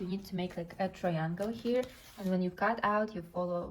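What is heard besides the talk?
No everyday noise stands out behind the speech.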